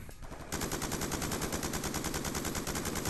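Rapid, continuous automatic gunfire in a video game, a dense steady rattle of evenly spaced shots that starts abruptly and fills the whole moment at close, loud level with no talk over it.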